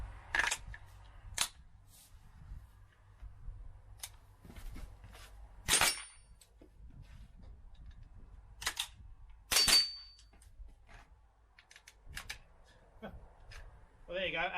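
Sharp mini rifle shots crack out one at a time during IPSC practical shooting training on round obstacles, spaced irregularly across the stretch with a steady low rumble beneath and brief talk in between.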